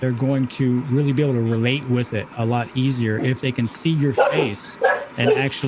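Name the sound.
dogs barking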